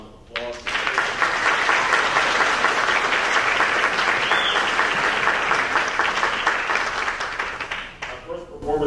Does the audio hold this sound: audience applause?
yes